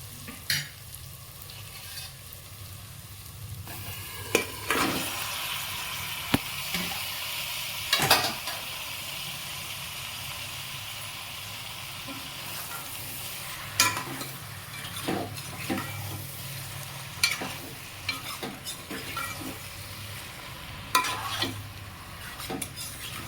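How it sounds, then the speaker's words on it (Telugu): Chicken pieces fry with onions in a pan for a Telugu-style chicken curry, a steady sizzle broken by frequent scrapes and clinks of a metal spoon against the pan, close up with no talking. "ఇప్పుడు చికెన్ ముక్కలు వేస్తున్నామండి"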